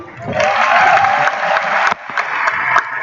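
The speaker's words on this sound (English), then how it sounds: "can we give a huge round of applause to the ACN system?" An arena audience at an ACN event in the MEO Arena claps together in sustained applause that stays fairly loud and steady, thinning slightly toward the end.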